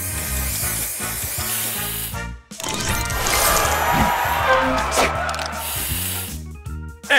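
Spray booster effect in the mobile puzzle game Color Crush: a loud hissing, spraying burst with crashing, sparkly effects layered over upbeat game music.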